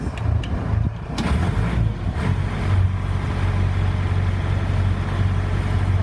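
A canal boat's diesel engine chugs steadily in reverse at low revs, a constant near rumble with no talk over it.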